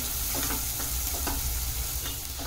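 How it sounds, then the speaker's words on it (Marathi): Chopped onion and a small tomato fry in hot oil in a pan for matar pulav, giving a dense, continuous sizzle with regular stirring scrapes, close and loud. "कांदा चांगला भाजलाय, आपण त्याच्यात 1 छोटा टोमॅटो टाकूया। व्यवस्थित परतून घेऊया।"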